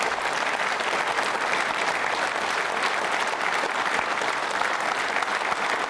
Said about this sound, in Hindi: आप सभी अपने लिए जोरदार तालियां एक बार बजाइए।